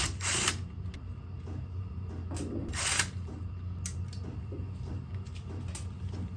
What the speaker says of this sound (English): I recommend using an impact because you don't want to strip these screws.